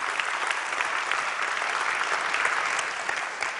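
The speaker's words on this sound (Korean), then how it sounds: "여러분들 박수 한번 다시 크게 한번 시작하시면서 토크 시작하겠습니다" An audience at a Korean tech conference talk applauds steadily throughout, a dense wash of clapping from many hands that neither builds nor fades.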